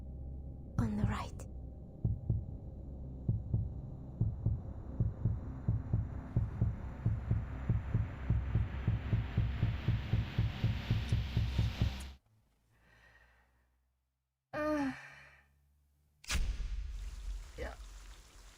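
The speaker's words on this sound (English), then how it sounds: "Oh my god, the heartbeat." A heartbeat in the video game Reverse 1999 thumps in a steady, loud rhythm of low double beats for about twelve seconds, then breaks off into quiet broken by a few sharp game sounds.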